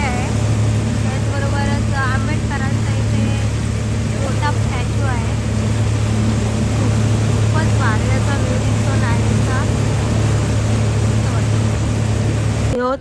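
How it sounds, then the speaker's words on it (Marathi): A tour boat's engine drones steadily on a lake in Hyderabad, a constant low rumble with water wash, while people talk and call out over it throughout. "ही बोट आम्हाला इथे घेऊन जाणार आहे."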